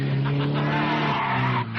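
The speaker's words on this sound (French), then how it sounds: "Si tu ne veux pas faire ronfler ce moteur, je vais m'en charger, moi." Car engine revving hard as tires squeal and skid, a loud sustained roar and screech lasting under two seconds, cutting off abruptly at the end.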